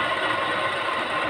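A washing machine runs through a load of laundry on a hot summer day, giving a steady, loud mechanical hum with a faint rattle and no pause.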